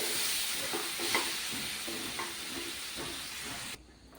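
Cooked mangoes, stones and all, are stirred into a mixture for mango raita, with a soft continuous hiss and faint scraping strokes close by, ending abruptly in near silence.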